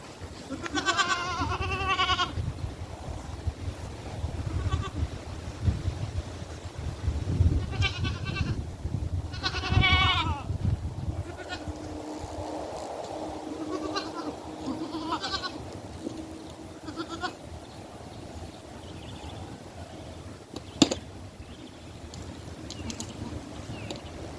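Goats being moved on a farm bleat repeatedly in wavering calls, a few loud and close early on, others spread out over rustling and movement noise, with a brief sharp knock late.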